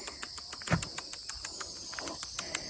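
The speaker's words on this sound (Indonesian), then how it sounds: "Suara burung, jangkrik." Steady high cricket trilling fills the background with scattered faint bird chirps, one brief louder knock near the start, outdoors on a forested hill trail in West Java, fairly quiet.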